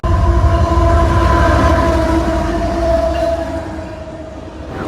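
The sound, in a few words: CSX local freight train with GEVO locomotive passing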